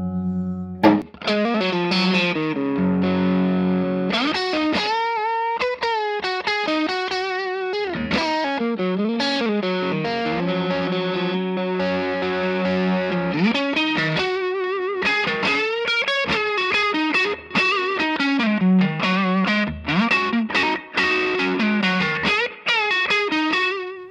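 An electric guitar on the amp's dirty channel drives a Mojotone American Style 2x12 Lite cabinet with Jensen C12Q speakers, playing a continuous crunchy run of bends, riffs and held notes, close and loud with no voices.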